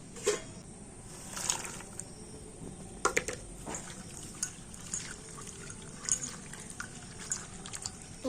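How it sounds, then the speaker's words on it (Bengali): Sliced jackfruit seeds washed in water by hand, with soft splashes, drips and squelching swishes coming in bursts, close and fairly quiet. "এবার আমি এই কাঁঠাল দানাগুলো জল দিয়ে ভালো করে ধুয়ে নেবো"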